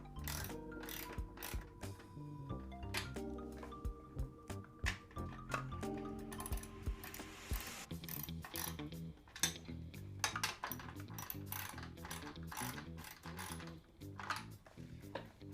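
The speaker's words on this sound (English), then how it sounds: "next step is tighten up all 3 bolts." Bolts being tightened on a rear turn signal of a Yamaha V Star 1100 motorcycle, a quick rhythmic clicking ratchet in repeated bursts with some metallic clinks, close and fairly quiet.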